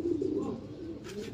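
A single soft, low pigeon coo, close and fairly quiet, from a young racing pigeon bred from Jellema and Janssen President lines.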